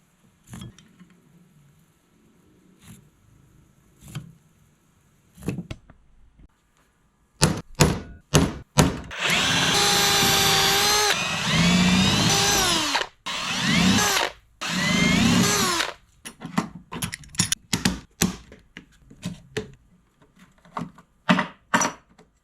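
A power drill boring holes into a boat's ski locker lid, with several short bursts early on, then sustained loud whirring runs broken by brief pauses, ending in quicker stop-start pulses nearby.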